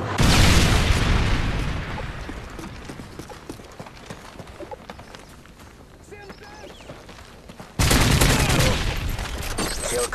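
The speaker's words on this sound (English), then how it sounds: "Friendly predator missile inbound." A predator missile strike in a video game, a loud close impact boom and roar at the start, a rumbling crackle that fades, then another sudden loud burst near the end.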